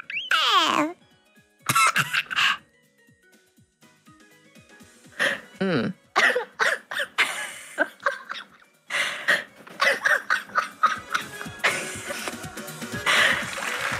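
Several people take turns voicing imitations of a baby coughing, with short bursts of wheezy, high-pitched coughs and gasps separated by pauses, close and clear, mixed with talking and laughter.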